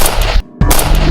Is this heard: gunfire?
yes